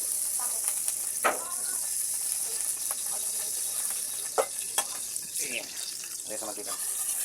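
Crabs fry in reused cooking oil in a pan before being simmered in coconut milk, giving off a steady, close sizzling hiss with a few sharper pops while someone talks over it.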